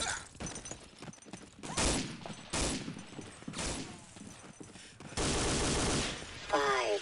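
Rapid gunfire in the World War II shooter Day of Defeat, with bursts of automatic shots and single cracks coming in uneven clusters, fairly faint overall and mixed with game sounds and some voices.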